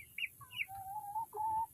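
Hens and roosters cluck and call close by, a few short clucks followed by longer, drawn-out tones, faint but clear over a quiet, low background hum.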